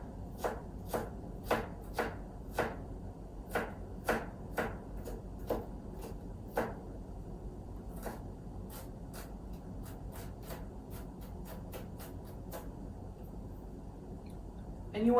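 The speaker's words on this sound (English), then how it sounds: "So we're just going to dice up some of this onion that we had cut for our bison burgers." A knife dices a sweet onion on a cutting board for bison burgers, giving a run of sharp, evenly spaced chops close by that slow and turn lighter toward the end, over a low steady background hum.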